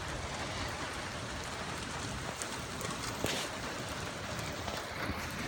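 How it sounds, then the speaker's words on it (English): Heavy rain pours steadily, a dense, even hiss of drops on surfaces that holds unbroken throughout, with a brief sharper patter near the middle and no voices. "Look, it looks like it's just pouring."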